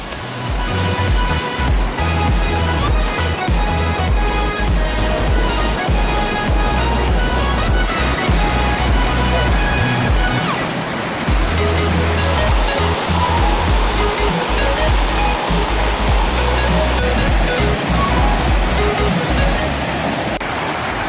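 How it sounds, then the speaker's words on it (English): Multnomah Falls in Oregon roars from the top of the falls, a loud, dense, continuous rush of plunging water that holds steady throughout with no talking. "We are above the waterfall,"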